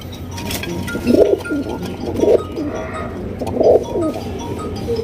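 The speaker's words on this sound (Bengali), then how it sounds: "খুবই কিউট এক জোড়া রেসার কবুতর আপনারা পাইতেছেন" Soft, throaty racing pigeon coos repeat in short rolling phrases over a steady background hum, with a few brief faint chirps mixed in.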